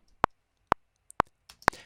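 Crisp, evenly spaced metronome clicks at 125 BPM, four sharp ticks at a moderate steady tempo, close and isolated against near silence.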